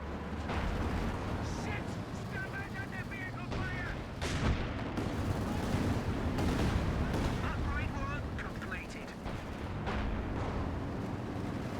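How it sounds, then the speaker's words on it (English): A Werfer rocket artillery barrage in a strategy war game, with sharp booming impacts and gunfire scattered across a continuous battle rumble, while a voice talks over it. "Oh, nice barrage here."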